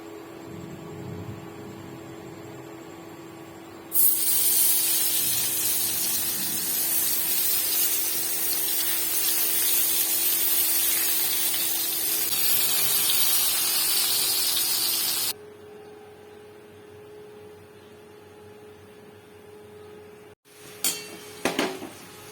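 Vegetables frying covered in a little oil: a steady, loud sizzling hiss that starts abruptly, holds for about eleven seconds, then drops to a low hum with a few faint clatters near the end.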